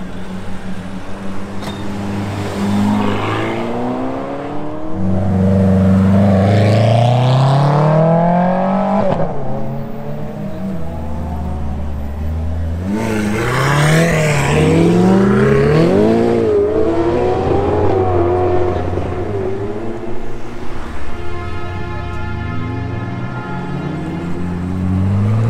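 A string of supercars roars past one after another at full throttle during a charity supercar event, with Doppler-shifting engine notes rising and falling. The run ends with a Ferrari 296 GTB V6 accelerating past, loud and near throughout.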